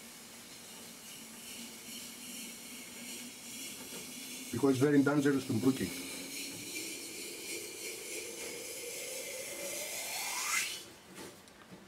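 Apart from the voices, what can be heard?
hot raku pottery hissing as it is put in water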